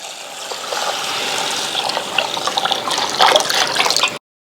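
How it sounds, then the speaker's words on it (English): Water pours steadily onto corn grits set to soak, a continuous splashing fill that grows slightly fuller and louder near the end before stopping abruptly. "I'm going to add some water."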